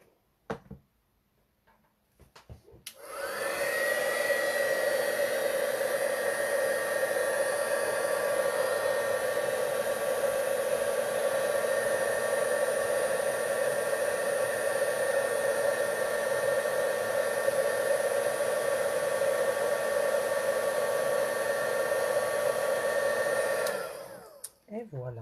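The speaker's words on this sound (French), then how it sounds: "Et on va l'embosser avec notre pistolet chauffant." A heat gun melts embossing powder on a stamped card, its fan blowing as a steady, loud whir for about twenty seconds after a click on, then cutting off.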